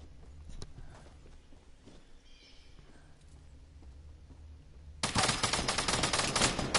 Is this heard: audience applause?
no